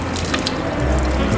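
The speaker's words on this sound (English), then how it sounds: "I'm gonna go ahead and fill up my water bottle." Water runs steadily from a public fountain into a bottle in Rome, a close, continuous gurgling rush.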